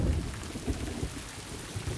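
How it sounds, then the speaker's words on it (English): Sudden heavy rain pounding down with deep rumbling thunder during a Taiwan mountain cycling climb, a dense loud downpour over low rolling booms. "Sudden heavy rain brings today's ride to an end."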